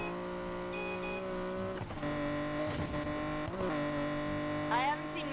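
A Nissan GTR engine hums at a steady drone while driving in Need for Speed Payback, with a brief tire squeal and short shifts in pitch, loud and close throughout.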